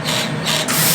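A harsh, steady screeching rasp of a Chinese CO2 laser cutter (RMLaser RM960 Pro) cutting through wood, loud and close, with a gritty sanding-like texture that surges slightly partway through.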